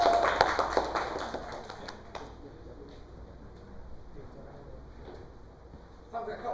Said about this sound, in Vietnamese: vỗ tay cho tổ 2 cái nhỉ.